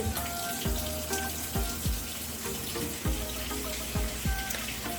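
Water pours into a washing machine filling for a hot wash, a steady rushing hiss with repeated low gurgles and drops, heard close and continuous throughout.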